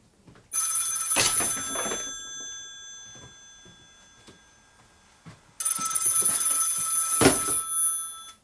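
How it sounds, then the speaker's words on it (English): Loud telephone bell rings in two bursts separated by a quiet pause, a bright electronic trill in a live studio setting. "the phone should probably ring for that one"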